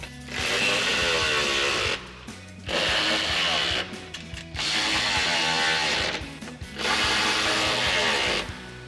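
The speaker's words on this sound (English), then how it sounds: "Now we'll grab our 14mm socket to come in and tighten down these mounting nuts." A 14mm socket on a ratchet tightens step bar mounting nuts on a Ford F-150, producing four loud, close bursts of rapid clicking ratchet pawl, each about two seconds long and separated by brief pauses.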